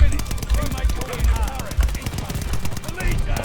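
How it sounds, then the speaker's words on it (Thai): Rapid, dense automatic gunfire from a shooter video game rattles on continuously, loud and close, with a voice talking over parts of it. "มีคนยิงมาจริงๆด้วย"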